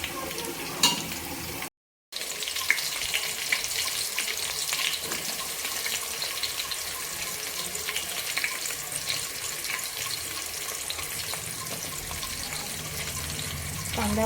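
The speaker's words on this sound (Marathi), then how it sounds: "गोल्डन ब्राऊन असं मी अगोदर कांदा भाजून घेते" Chopped onion fries in oil until golden brown, giving a steady, soft hiss and sizzle throughout with a brief dropout near the start, faint and close.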